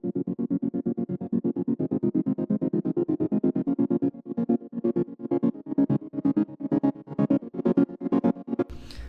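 Synth drop played without sidechain: a loud, distorted chord-stab pattern pulsing in a steady fast rhythm, building in intensity toward the end with no voice.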